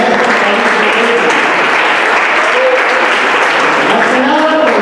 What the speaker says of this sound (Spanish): Pido aplausos para el maestro Mauricio.